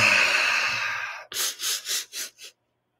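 A guided breathwork session: a long, steady breath trails off, then five short, forceful breaths follow in a quick even rhythm, close and loud before sudden silence.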